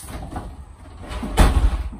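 A sliding shower door in the corner bathroom of a 2021 Flagstaff Micro Lite 22FBS travel trailer rolls along its track and closes with a loud, close thud near the end.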